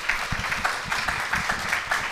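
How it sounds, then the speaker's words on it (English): Audience applauding a conference panel on migration, a steady dense patter of clapping throughout with a few louder bursts, fairly close and without speech. "Give them a round of applause"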